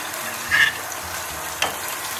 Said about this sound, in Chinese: 然后咱们把豆芽捞出